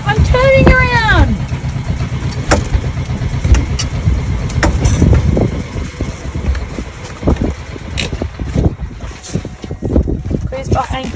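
Sailboat engine running with a blown exhaust pipe, a loud rough low-pitched rumble with rapid pulsing, while people talk over it and wind noise persists.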